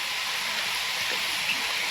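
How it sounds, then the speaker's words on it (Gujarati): Heavy rain falls in a village as a dense, even hiss, steady and fairly soft for the whole two seconds, with no other sounds standing out. "જોરદાર વરસાદ પડી રહ્યો છે અટાણે"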